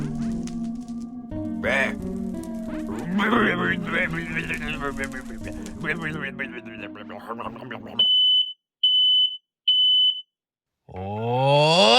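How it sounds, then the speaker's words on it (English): After a busy, noisy stretch, a smoke alarm gives three loud, piercing high beeps in a row, followed by a brief silence. "the smoke alarms have blared"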